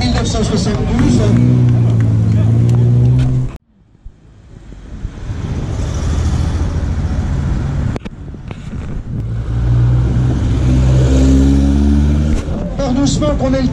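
A 1972 Alfa Romeo rally car at a classic regularity rally pulls away slowly, its engine revving and rising in pitch, dropping off, then building again, with a commentator talking over it.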